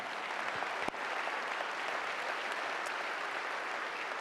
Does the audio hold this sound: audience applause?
yes